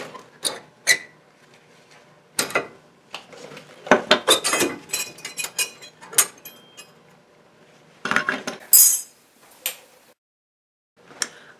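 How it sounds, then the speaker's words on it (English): Metal anti-rattle clips and brake pads are pried out of a car's brake caliper, giving a scattered series of sharp metallic clinks, taps and scrapes with quiet pauses between them, close to the listener. "I'm going to remove the anti-rattle clips, which are these two things, and then I'm going to remove the brake pads"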